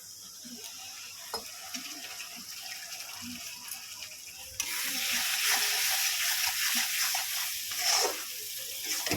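Ginger, garlic, chilli and onion paste hits a hot pan partway through, and a quiet background suddenly turns into a steady, bright sizzle of frying that continues to the end.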